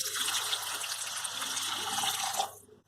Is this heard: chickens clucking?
no